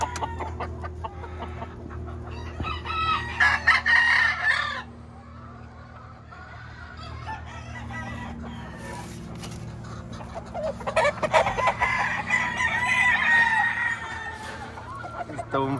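A young rooster on a gamefarm crows twice, loud and near, each crow a strained rising then falling call, with clucking and other fowl around and someone speaking Spanish between them.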